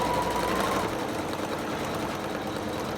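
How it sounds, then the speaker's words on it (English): An embroidery sewing machine runs at about 800 stitches per minute stitching a satin-stitch heart border in red thread, a steady, fast, loud mechanical whir with rapid needle chatter throughout. "My machine is working at 800 stitches per minute"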